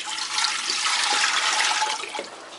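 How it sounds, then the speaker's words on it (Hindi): A steady stream of water, one jugful, pours and splashes into a pot for mutton yakhni, continuous and fairly loud for a couple of seconds before tapering off. "1 jug पानी का डाला"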